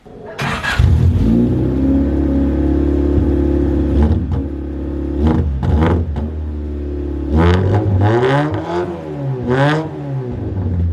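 A Honda Civic engine revs loudly several times, rising and falling in pitch, with sharp bursts of acceleration between idling stretches.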